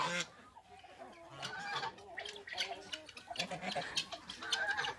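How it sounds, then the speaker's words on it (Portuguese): A flock of geese on a farm, with repeated honking and cackling calls overlapping near and far in a lively rhythm, mixed with other farmyard birds. "Esses gansos fazem muita folia demais."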